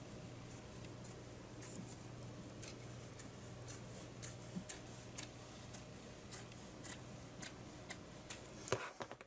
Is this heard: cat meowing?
no